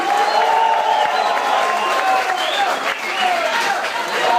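A concert crowd at an Israeli metal battle final cheers and applauds loudly and steadily, with dense clapping and shouts filling the whole stretch and no break.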